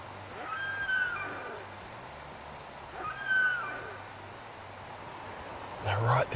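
Deer stag roaring off in the bush, two faint, distant drawn-out bellows a couple of seconds apart over steady outdoor background noise, with a brief closer rustle at the end.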